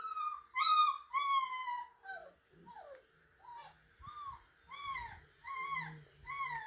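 Four-week-old puppies in an indoor playpen howl and whimper in a run of thin, rising and falling cries, close and fairly soft, with faint knocks and movement underneath.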